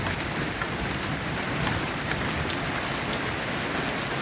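Heavy rain pours through the night in Iloilo, a dense, loud, unbroken roar of drops hitting surfaces with no voices.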